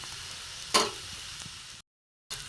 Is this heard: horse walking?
no